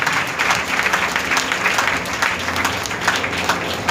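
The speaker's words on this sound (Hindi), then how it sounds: "मैं जोरदार ताली के साथ परमेश्वर की महिमा में।" A Sunday church congregation gives loud, sustained applause during a sermon, a thick wash of many hands clapping continuously and close for nearly four seconds, with no talking over it.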